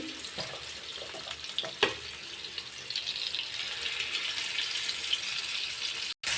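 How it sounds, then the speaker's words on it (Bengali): Fish dropped into well-heated oil in a pan alongside eggplant, giving a steady, soft hiss of frying with a brief clatter near the end. "তেলটা ভালো মতো গরম করে আমি মাছগুলো দিয়ে দিচ্ছি"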